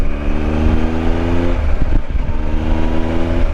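The inline-triple engine of a Triumph Explorer 1200 adventure motorcycle revs loud and close, a droning, harmonic-rich growl that dips briefly mid-way, as if changing gear, then climbs again.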